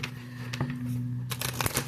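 A deck of tarot cards is shuffled close by, with faint handling at first and then a brisk burst of rapid riffling toward the end. No one speaks.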